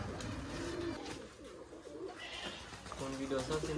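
Giribaj pigeons coo softly at a pigeon farm while the birds feed on mustard seed, the cooing mixed with someone talking close by and steady background bustle.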